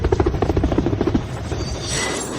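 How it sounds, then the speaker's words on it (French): A helicopter's rotor thumps in a steady rapid beat with a low engine drone, loud and close, fading into a broad whoosh by the end. "Alors, appelez un hélicoptère."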